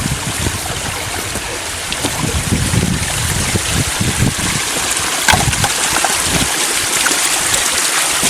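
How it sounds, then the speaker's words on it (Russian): A small waterfall on a cold mountain stream in the Polar Urals pours in a close, loud, steady rush with wind noise mixed in. "Вот тут маленький водопадик."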